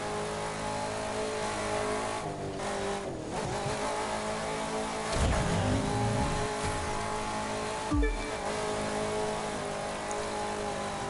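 A car in The Crew 2 racing game roars as it accelerates, its engine pitch climbing and then dropping sharply at several gear shifts into higher gears, loud and sustained with no talking.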